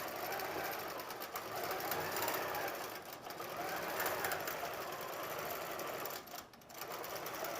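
A sewing machine stitches fabric for a Halloween advent calendar, running in a dense, steady close whir that hardly varies, pausing briefly near the start and twice more before carrying on.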